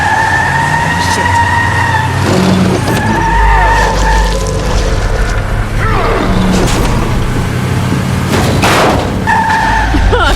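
A car skids loudly in the video game The Wolf Among Us, with long screeching tire squeals repeating over a constant engine roar for several seconds.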